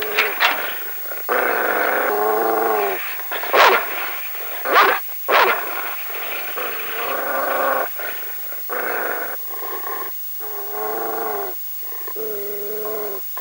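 A dog barks, whimpers and growls close by in the French film Purgatoire, with tonal whines alternating with sharper bursts and short gaps.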